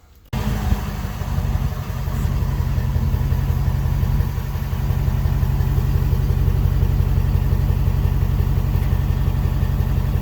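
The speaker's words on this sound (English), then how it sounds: "I can actually hear an exhaust pulse now, which is more than I had before." A 2022 Ford F350 6.7 Powerstroke diesel pickup idles close by with a new 5-inch stainless steel DPF-back exhaust, after a brief quiet start, with a low, even rumble and faint pulsing exhaust throughout.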